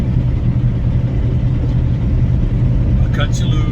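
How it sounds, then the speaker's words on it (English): A car drives along steadily with a constant, close engine and road rumble throughout, and a faint brief higher sound near the end. "let's just have a nice, relaxing drive"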